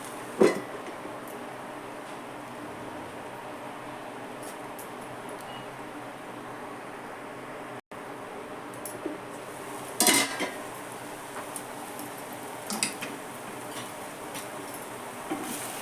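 A metal lid clatters down onto a pan of grated potato left to steam for a fasting dish, giving a sharp clink around the tenth second, then a few fainter kitchen knocks over low background hiss.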